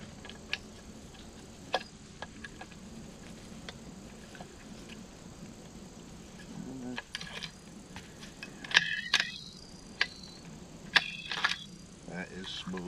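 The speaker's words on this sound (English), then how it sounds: "Let's throw a bolt in there." A Savage Axis rifle bolt is slid in and cycled, giving sharp metallic clicks and a few sliding clacks, clustered near the end and close by, with a person speaking intermittently over a quiet room.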